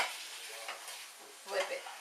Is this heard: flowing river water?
no